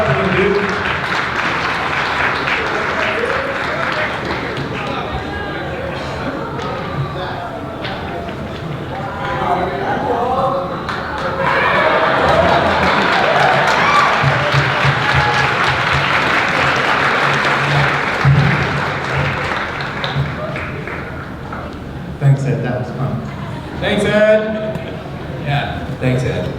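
Audience applause fills a convention panel room at a My Little Pony fan convention, a dense sustained clapping crowd that swells in the middle and tapers near the end, with voices talking over it.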